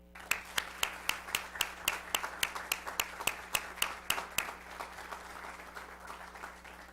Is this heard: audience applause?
yes